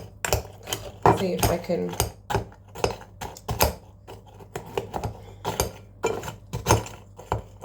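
A metal spoon repeatedly bashes Halloween snacks, giving sharp clattering knocks in an uneven rhythm, close up, as someone talks between the hits.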